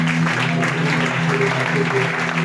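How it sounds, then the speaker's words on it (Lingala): A church congregation acclaims the Lord with loud, steady applause and cheering that fills the space without a break, voices mixed into the clapping and a low hum underneath. "Quelqu'un peut acclamer pour le Seigneur."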